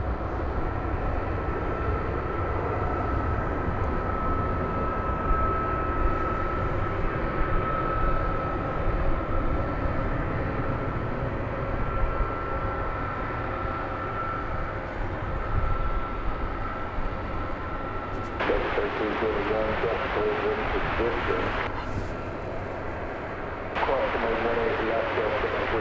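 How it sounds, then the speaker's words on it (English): American Airlines Boeing 777 in oneworld livery taking off at night at DFW, heard as a sustained, distant jet engine rumble and whine that builds steadily, with a brief quieter gap near the end. "American Airlines 777 that we saw earlier is indeed going to take off from over here on this side."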